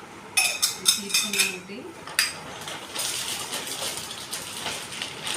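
A small metal storage box is handled with a quick run of light clinks and taps, and someone speaks briefly over a soft background hiss.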